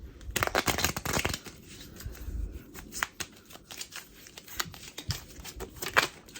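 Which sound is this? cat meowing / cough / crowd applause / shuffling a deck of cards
shuffling a deck of cards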